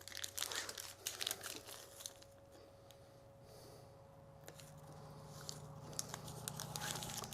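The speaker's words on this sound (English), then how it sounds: "Then it's got this little thin tape that's on top of it that you have to peel off." Thin protective tape being peeled off epoxy fill material for an engraving, heard as soft, close crinkling and tearing rustles with a faint steady hum in the background and no talking.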